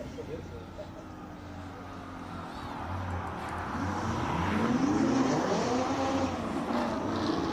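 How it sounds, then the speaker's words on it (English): A Ferrari 488 GTB race car climbs at a hill climb event, its engine note rising and sweeping as it approaches and passes, while a commentator talks over it. "Here is the beautiful Ferrari 488 GTB, Niven Maestri."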